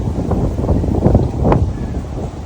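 Gusty wind rushes steadily on a cloudy evening ahead of rain, a loud broadband roar buffeting close to the microphone with no voices.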